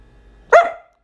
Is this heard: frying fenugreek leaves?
no